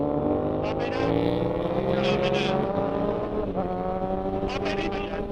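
A motorcycle engine on a road, a loud sustained whining drone with a steady harmonic tone that shifts in pitch as it passes close by.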